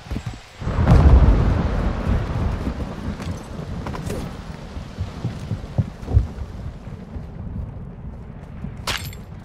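Semtex grenade detonating in Call of Duty Modern Warfare 2 multiplayer: one heavy, booming blast early that rumbles and decays over several seconds, followed by scattered softer thuds and a sharp crack near the end.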